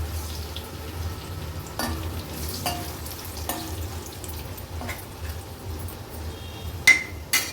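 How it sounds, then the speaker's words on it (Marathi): Phodni tempering for a Konkan raw mango kadhi sizzling gently in oil on a low flame, a steady soft hiss under a low hum, broken by occasional spoon scrapes and taps against the pan. "आता लो फ्लेमवर ही फोडणी छान आपल्याला परतून घ्यायची आहे"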